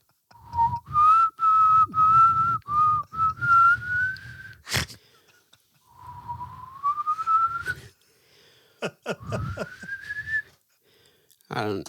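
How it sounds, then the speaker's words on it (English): A person whistles a wavering melody in several phrases separated by short pauses and sharp clicks, close and clear, over a faint low background. "based on the fact that you whistled"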